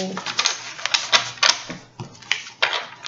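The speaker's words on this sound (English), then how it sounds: "let me shuffle" Quick rustling riffles of tarot cards being shuffled, a few bursts in close succession near the listener, with a voice talking over them.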